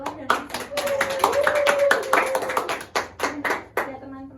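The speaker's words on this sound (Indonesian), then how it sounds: "Beri tepuk tangan untuk Mbak Salwa" Scattered clapping from a small group in a classroom-style session, with distinct claps in an uneven rhythm and voices talking over them.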